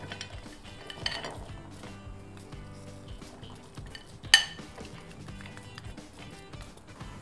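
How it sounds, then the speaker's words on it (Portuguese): Apple pieces tipped from a bowl into a baking dish for a crumble, a quiet run of soft clinks and knocks with one sharp louder clatter midway, no talking. "Então aqui, vou despejar toda a minha maçã."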